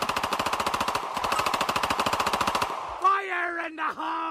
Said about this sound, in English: give G Money a motherfucking gun salute